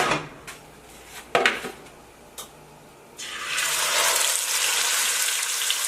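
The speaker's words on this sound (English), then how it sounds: "That's exactly what you want to hear. All that sizzle." Loud, steady sizzling hiss of beef hitting hot oil, rising abruptly after a few clanks and bumps of cookware, then continuing strong and close.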